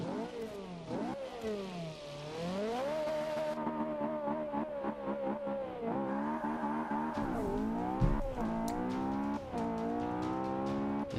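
A 2009 Ferrari 458 Italia in Forza 5 on the Top Gear track, its engine rising and falling through repeated revving gear changes, loud and close, with a brief tire squeal.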